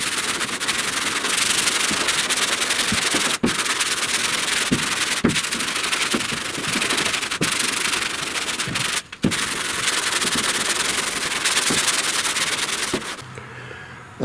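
Steady, close scratchy rubbing of sandpaper over guide coat on epoxy-primed body panels of a '69 C10, continuing almost without pause with small regular strokes, then stopping near the end.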